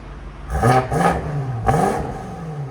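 A BMW X6 M Competition fitted with downpipes and Vibrant resonators revs hard in three close, loud bursts, each rising and then dropping back to idle, with no talk.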